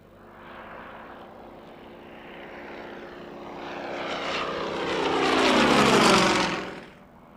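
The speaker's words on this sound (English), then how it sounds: "just listen to the sound of that big radial engine" A Yak-18T four-seat aircraft with a big radial engine passes at an airshow, its throaty propeller drone swelling as it approaches, peaking loud and close, then dropping away quickly, with no talk over it.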